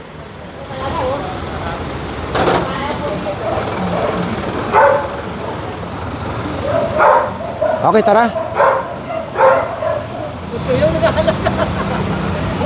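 A dog barks several times in short bursts amid street traffic, with people talking nearby, in a Manila street during an illegal parking enforcement operation.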